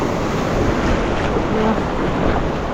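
Steady, loud wash of choppy sea waves and wind at a shoreline during crab gathering, a broad constant roar with no breaks and no talk.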